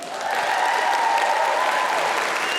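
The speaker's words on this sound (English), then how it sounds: "I was fishing for applause." Audience applauding at the close of a live election-processing show, a dense, steady wash of clapping that swells in and holds loud and close throughout.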